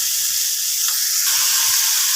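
Tomatoes sautéing in a hot pan for a home-cooked cabbage dish, a steady close sizzle with soft crackle that holds even throughout, no voices.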